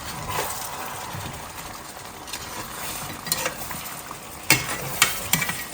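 Masala chicken simmers in an open pot, giving a steady low sizzle and bubbling with occasional soft stirring and clinks of a utensil, a few sharper scrapes near the end.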